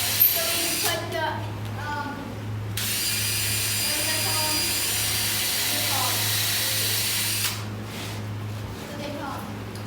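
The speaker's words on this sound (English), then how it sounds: "And then you drill the hole so we can put the" A power drill runs in bursts, boring screw holes in an aquarium rack in a fishroom renovation, whining loud and close with brief stops while people talk over it.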